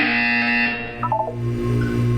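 A loud electronic buzzer drones steadily in a Portal 2 test chamber, with a brief pulsing flutter partway through and low humming tones underneath.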